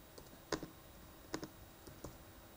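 A few faint, sparse clicks of J and K keys pressed on a computer keyboard, three or four separate taps spaced apart in a quiet room.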